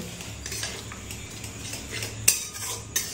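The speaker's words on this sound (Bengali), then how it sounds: "এখন এর মধ্যে দিয়ে দিচ্ছি হলুদের গুঁড়ো, লঙ্কার গুঁড়ো আর ধনিয়ার গুঁড়ো।" Ginger-garlic masala stir-fried with turmeric, chilli and coriander powders for a bhindi dish, metal spoon scraping and tapping the pan over a soft frying hiss, with two sharper clanks near the end and no voices.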